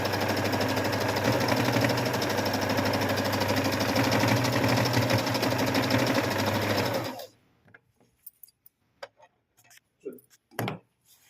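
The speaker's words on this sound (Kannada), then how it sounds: "ನೋಡಿ ಈ ರೀತಿ ಇಟ್ಟು ಹೊಲಿದ್ರೆ ನಮಗದು ಥ್ರೆಡ್ ಆ ಕಡೆ ಈ ಕಡೆ ಬರಲ್ಲ" A zig zag sewing machine stitches fabric in a steady, fast mechanical whir with rapid ticking for about seven seconds, then stops, leaving a few faint handling clicks and knocks.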